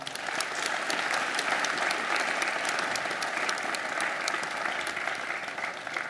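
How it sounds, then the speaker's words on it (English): Sustained applause from a sizable crowd at a university graduation ceremony, dense steady clapping that carries on for several seconds without any speech. "I think they deserve a round of applause, don't you?"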